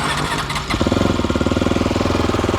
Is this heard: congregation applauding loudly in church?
no